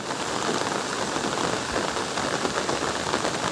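Steady rain falls on a green village with palm trees, a dense, even patter across surfaces, loud and continuous with no voices.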